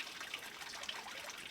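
Water trickles and gurgles steadily into a squeezed rubber filter bulb held under the surface, a soft continuous bubbling close by with no talk.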